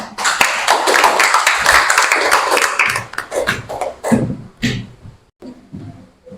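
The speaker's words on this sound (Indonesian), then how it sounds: "kita beri tepuk tangan untuk kelompok Gloria" A group claps together in a burst of applause that fades into scattered, uneven claps before trailing off.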